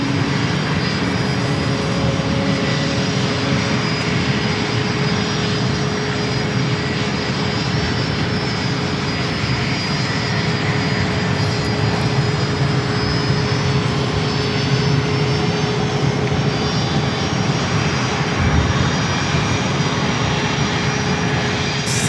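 A WestJet airliner at San Diego airport produces a continuous, loud engine drone with a steady whine layered over a broad rumble. The sound stays constant throughout, with no voices.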